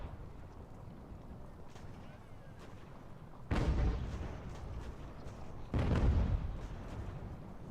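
Artillery and musket fire in the strategy game Ultimate General: American Revolution, two heavy booming volleys a couple of seconds apart rising over a steady battlefield rumble.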